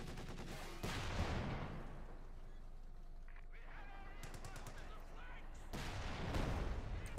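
Company of Heroes 2 battle sounds fill the clip: bursts of machine gun fire and a demolition charge explosion. Sharp rattling volleys open and close the clip, with quieter scattered gunfire between them.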